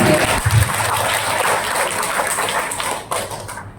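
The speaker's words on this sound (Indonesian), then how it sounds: "Tepuk tangan untuk Magetan" An audience at a library literacy talk breaks into steady, moderately loud applause that continues for a few seconds before thinning out.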